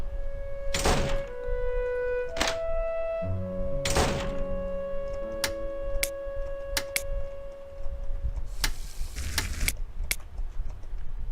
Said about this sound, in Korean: 열쇠로 현관문을 열었다.